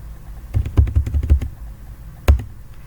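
Close computer keyboard typing out Python code, a quick cluster of several key taps followed by a pause and one more louder pair of strikes, with no talking.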